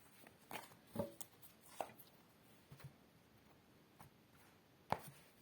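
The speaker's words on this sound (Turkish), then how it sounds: "Birazdan da kartlarımı keseceğim ve seçmeye başlayacağım." A deck of tarot cards being cut by hand, giving a few quiet, scattered taps and soft clicks over a faint, steady room hiss, with the sharpest snap near the end.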